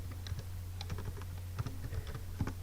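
A name being typed on a computer keyboard: light, irregular key clicks tapping out a short burst of characters over a steady low hum, with no talking.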